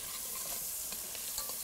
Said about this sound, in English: the goal for this bacon is just to let it render down until it's, browned and contributing a lot of flavor to this pot